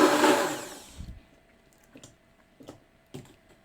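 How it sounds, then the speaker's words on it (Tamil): A blender loudly whirring through banana and sugar for cake batter, then cutting off after about a second, followed by a few faint clicks and knocks. "சுகர் நல்லா பிளெண்ட் ஆகிற அளவுக்கு பிளெண்ட் பண்ணிக்கோங்க."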